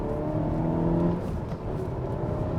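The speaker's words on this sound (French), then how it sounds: "C'est pas un moteur qui chante, c'est un moteur qui souffle." Audi S3 8P with a four-cylinder 2-litre turbo engine and stage 1 tune, running with a throaty, breathy rumble that rises and then eases back, close and moderately loud with no talk over it.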